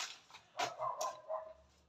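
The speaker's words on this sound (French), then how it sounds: "vous entendez peut-être mon chien qui aboie sur les voisins" A dog barks at the neighbours somewhere off in the distance, a few faint, muffled woofs in quick succession.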